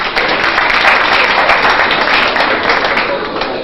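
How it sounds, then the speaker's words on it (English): Loud, continuous applause from a crowd at a national cooking competition honours a young contestant, many hands clapping in a dense, unbroken wash with some voices mixed in. "we should all also give a round of applause"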